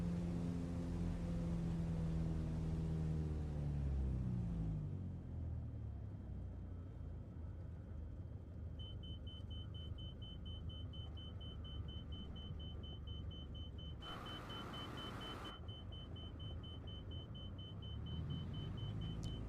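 A Super Decathlon aerobatic plane's piston engine in Microsoft Flight Simulator drones through a stall, its tone sliding down early and settling into a low rumble with a thin steady whine, broken briefly by a short hissing burst.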